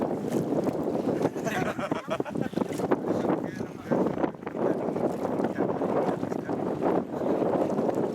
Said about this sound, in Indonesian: Angin, Bang.